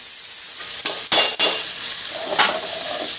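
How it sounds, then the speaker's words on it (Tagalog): Crushed tomatoes sizzle and fry in a hot pan while being sautéed, with a continuous sizzle broken by a few sharp scraping stirs of a utensil against the pan, close and loud. "Pabayaan natin lumambot yung ating kamatis na binigisa."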